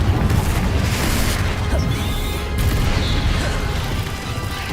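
Confringo blasting spells in Hogwarts Legacy set off booming, crashing explosions amid a dense, loud rumble of combat noise that stays sustained throughout.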